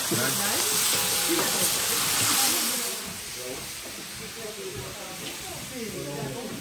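Chicken frying in a pan for a Réunion Island dish, giving a constant close hiss and crackle that eases slightly partway through, with people talking over the sizzle.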